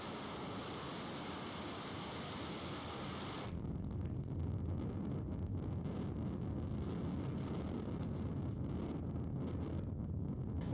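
Distant SpaceX Falcon 9 rocket liftoff at Vandenberg: a deep, continuous broadband rumble that abruptly swells and crackles, mixed with wind buffeting on the microphone.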